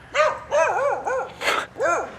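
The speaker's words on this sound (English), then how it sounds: "like a dog barking at you" A dog barks close by, five loud, evenly spaced woofs in quick succession, clear and alone without talk.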